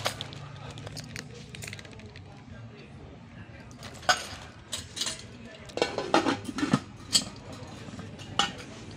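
Non-stick cooking pots and clear lids from a 10-piece set clink and clatter as they are handled, with scattered metallic knocks that bunch together midway, under a person talking.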